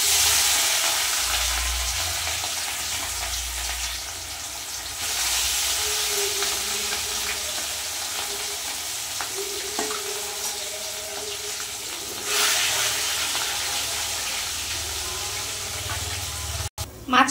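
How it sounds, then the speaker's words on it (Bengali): Rohu fish pieces fry in hot oil in a wok, giving a loud, steady sizzling hiss that runs without a break through the whole clip. "তেলের মধ্যে এবার একে একে মাছগুলো সব ভেজে নেব।"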